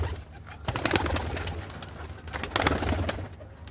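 Pigeons coo steadily at a rooftop bird tower, with bursts of wing flapping around one second and again near two and a half seconds, close and moderately loud over low background rumble.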